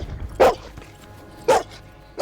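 Alien hunting dogs from a Predator film give two loud, separate barks about a second apart against a quiet background.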